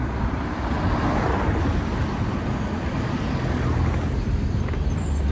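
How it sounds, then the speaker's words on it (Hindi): Road traffic rushes past as a steady, loud wash of car noise on a busy UK street, with no talk over it. "यहाँ पे रोड है और गाड़ियाँ गुजर रही हैं, ट्रैफिक काफ़ी है"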